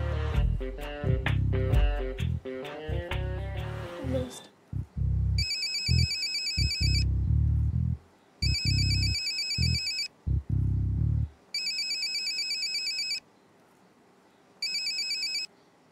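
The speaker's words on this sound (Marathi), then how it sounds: "सौमित्राला फोन कर पटकन." A telephone ringback tone repeats in regular bursts with short pauses, loud and close, after a few seconds of music at the start.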